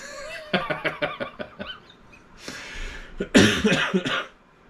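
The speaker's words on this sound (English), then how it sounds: "After every joke and I laugh, I have this cough, which is uncontrollable." A run of rapid, rhythmic coughs, then a pause and a couple of harsher, louder coughing bursts close by.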